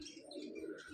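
A wild pigeon gives a short, soft, throaty coo, close by and alone.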